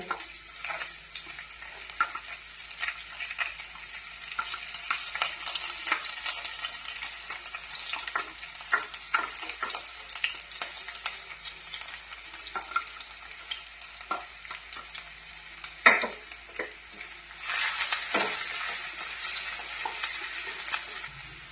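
Ginger and garlic fry in oil in a pan, a soft continuous sizzle broken by repeated scraping stirs of a spatula, close and quiet, with no voices.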